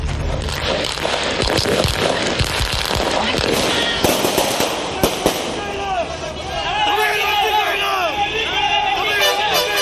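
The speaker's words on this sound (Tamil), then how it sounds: "அக்கட்சி தொண்டர்கள் பட்டாசு வெடித்து வரவேற்றனர்" Firecrackers burst in rapid, sharp crackling volleys as party supporters welcome a campaign vehicle, loud and close, with crowd hubbub and voices mixed in throughout.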